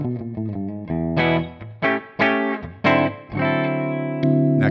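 Electric guitar on the bridge pickup, played through a Kemper Dr. Z Z28 clean profile, rings out in bright picked notes and strummed chords with sustained decays, heard alone.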